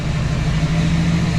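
A truck engine drones steadily and loudly with a deep hum while being driven onto a Freightliner, alone without speech.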